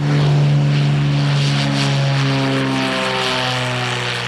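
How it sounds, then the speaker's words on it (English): Propeller engines on fire bomber aircraft spinning up, a loud steady drone with strong harmonic tones that rise and shift in pitch as the engines gain speed, heard alone and close. "get in their aircraft, start them up, and head to the fire"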